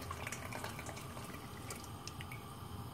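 Water is poured out of a pot from pho broth preparation, giving a steady, soft splashing trickle that runs without a break for a few seconds, fairly faint and close, with nobody speaking.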